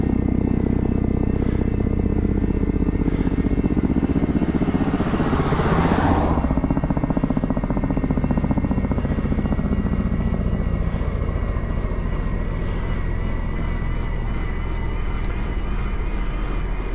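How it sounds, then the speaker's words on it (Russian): A helicopter drones overhead near a dirt road in the Sochi mountains, a steady low rumble mixed with a nearby engine, swelling briefly before fading into a continuous background hum. "Вертолет летит."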